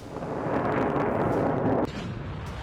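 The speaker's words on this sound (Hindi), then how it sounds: "सेजिल मिसाइल को लॉन्च किया गया है" An Iranian Sejjil missile launches with a loud, sustained roaring blast that rumbles steadily and then drops off abruptly into a lower, continuing rush.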